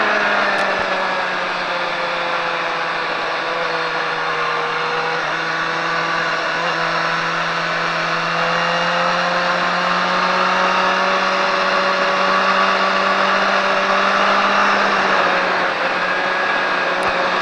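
A race car accelerating on a track, its engine holding a steady high-pitched drone close to the listener as the pitch climbs slowly.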